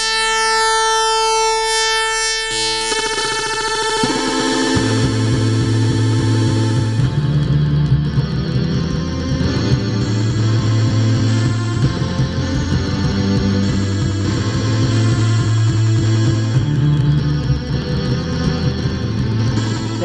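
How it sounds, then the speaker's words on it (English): Phase-shaping oscillators on a Waldorf Blofeld synthesizer give loud, sustained, buzzy tones that open with sweeping, siren-like pitch glides, then settle into a repeating low riff of stepping notes with bright, distorted harmonics, with no speech. "That's starting to sound like modular synthesis"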